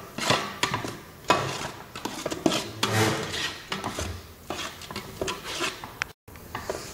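Whole cardamom and cinnamon get stirred in a pot while making Malabar biryani, with irregular scraping and knocking of a spoon against the metal pot, soft and close, with no voices.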